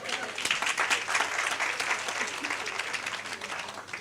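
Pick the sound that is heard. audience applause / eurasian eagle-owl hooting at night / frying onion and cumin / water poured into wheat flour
audience applause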